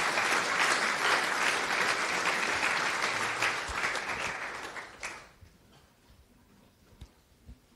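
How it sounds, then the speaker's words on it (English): Audience applause at the close of a technical conference talk on network protocols: dense, steady clapping from a crowd for about five seconds that then fades quickly, leaving a few scattered claps in a quiet room. "You can clap if you want."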